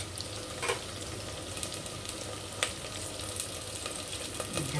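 Onions frying in oil for a hotel-style fish curry, a loud continuous close sizzle with occasional clicks of stirring.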